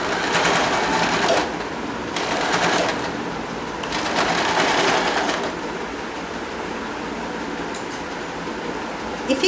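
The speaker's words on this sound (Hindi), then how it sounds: "अब इसको पक्का करने के लिए मैं एक रिवर्स ले रही हूँ सिलाई।" A sewing machine stitches a deity's dress in reverse, running steadily at close range for the whole stretch in several rising and easing bursts, with a light clack near the end.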